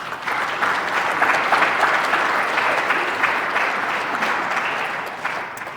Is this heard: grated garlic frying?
no